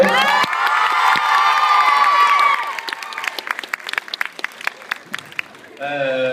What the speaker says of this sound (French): Je vais maintenant vous passer le réalisateur Arthur Benzaken sous un tonnerre d'applaudissements.